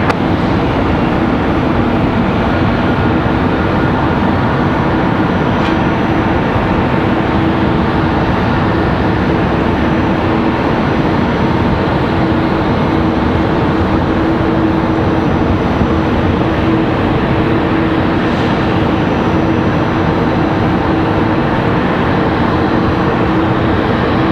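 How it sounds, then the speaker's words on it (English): A steady, loud, broadband jet roar from an airliner landing at Raleigh-Durham International Airport holds throughout without a break, heard from nearby with no talking. "Very flat landing there, not much of a flare it looks like."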